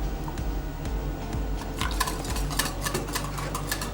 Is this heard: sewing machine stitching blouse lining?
no